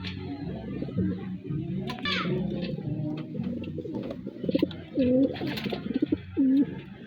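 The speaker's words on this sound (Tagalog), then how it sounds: "meron tayo dito mga kalapatids na may itlog na" Pigeons cooing inside their coop, several rolling coos rising clearly near the end over background chatter and rustling, with a person speaking intermittently.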